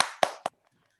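A few people clap in a video call: three sharp, close claps in quick succession, then silence.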